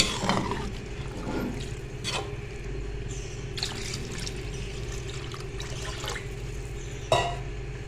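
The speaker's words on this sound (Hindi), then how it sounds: "अब हम इसमें पानी ऐड कर देंगे। फ़िलहाल मैं इसमें 3 गिलास डाल रही हूँ।" Water poured from a glass into a pot of lentils and chicken for shami kabab, a low continuous trickle and splash with a few clinks of utensils against the pot.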